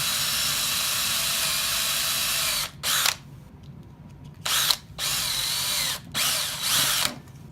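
A power drill whirs steadily through wood in several long bursts, stopping briefly between runs, close up with no talking.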